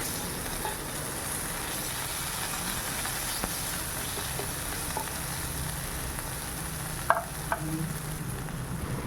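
Pav bhaji spread over a hot pan with butter, sizzling and crackling steadily at close range with a few faint scraping clicks and no talking.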